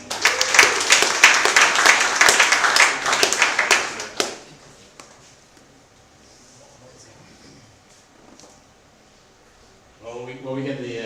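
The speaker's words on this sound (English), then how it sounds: "Big round of applause." An audience at a pitch event breaks into dense applause for about four seconds, then it fades to quiet room noise before a voice starts speaking near the end.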